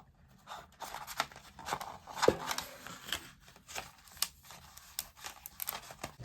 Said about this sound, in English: you just kind of take it and fold it where your cut lines are and you'll hear it crack